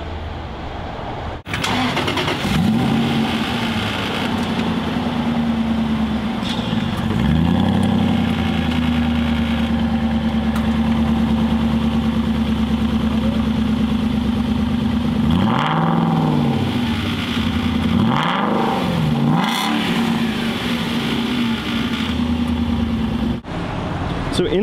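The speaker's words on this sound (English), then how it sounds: "Let's take a listen to the exhaust." Aston Martin Vantage sports car exhaust idling steadily with a deep low drone, then blipped several times so the note swells and falls in distinct revs before settling back to idle, close and loud throughout.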